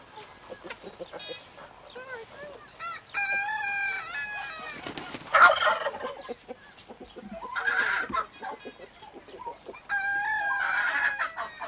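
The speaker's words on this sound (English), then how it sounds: "Hens and a cockerel." Hens and a cockerel on a farm cluck and crow in repeated bursts, fairly close and moderately loud, with short pauses between calls.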